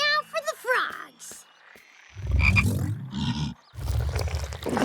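Cartoon frogs croak in a children's animated fairy tale, with a burst of high chirping calls followed by loud, deep, rumbling croaks that sound close, alone without talk.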